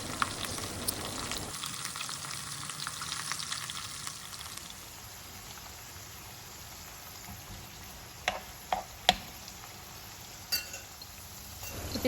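Prawns for biryani frying in a pan give off a steady broadband sizzle throughout, with a few brief clinks and scrapes of turning toward the end, with no talking.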